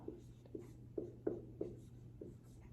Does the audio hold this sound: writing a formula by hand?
yes